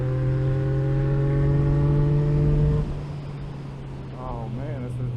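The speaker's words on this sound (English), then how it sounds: "I love the sound and the feel of a motorcycle when it's tuned just right" A tuned Yamaha MT-09 motorcycle engine with aftermarket exhaust and quick shifter hums and revs steadily, then the revs drop off sharply, leaving a lower idle with a brief voice over it near the end.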